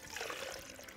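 Apple juice poured into a blender with boiled carrot, chopped avocado, ginger and honey for a carrot-avocado drink, a steady close trickling splash lasting about a second with no talk.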